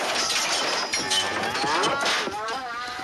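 Cattle mooing, drawn-out lowing calls that overlap one another in a loud, close herd, heard alone against a busy background.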